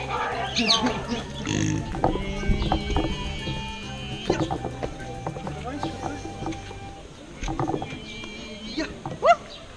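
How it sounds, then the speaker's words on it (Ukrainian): Black pigs at a zoo in Medenychi give repeated snuffling grunts and oinks up close, while people talk over and between the animal sounds. "Чорні свинки."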